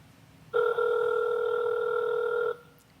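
An outgoing telephone call rings once: a loud, steady electronic ringback tone lasting about two seconds, then silence with faint background hiss.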